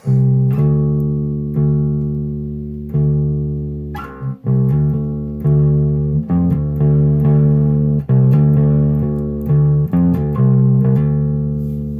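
Electric bass guitar with the gain turned up, slight breakup on sustained notes, a slow riff of plucked notes that ring and decay, played at moderate volume with no talking.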